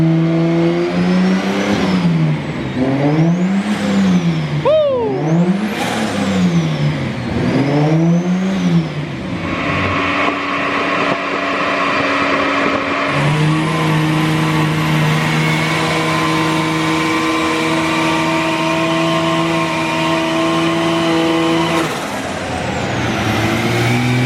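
A turbocharged L28 engine in a Datsun 280ZX revs repeatedly on a dyno, loud rising and falling sweeps, then pulls into a long sustained high-rev run with a strong whining tone.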